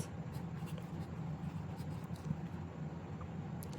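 A pen scratches steadily across paper as a grammar lesson is written out, a close, continuous dry rasp with no voices.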